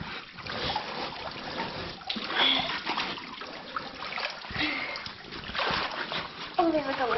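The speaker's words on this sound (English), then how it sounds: "I'm swimming right here" Water splashes and trickles as a person in a dry suit swims through a Utah canyon pool, soft sloshing strokes at close range mixed with light voices talking and echoing off the rock.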